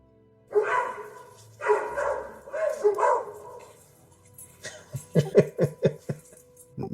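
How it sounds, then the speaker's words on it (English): A dog barks during a tabletop role-playing session, first a few drawn-out yowling barks and then a quick run of sharp, loud yips close by. "The dog's bark sounds peculiar."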